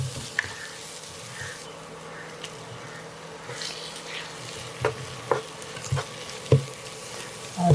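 Beaten egg fries in a pan for egg noodles, a steady close sizzle broken by scraping stirs and sharp spatula clicks toward the end.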